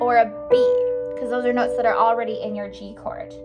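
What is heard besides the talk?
None of the usual background noises is heard.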